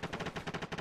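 Rapid gunfire in the Arma 3 military video game, a fast, steady burst of close, loud shots at an even rhythm, heard alone.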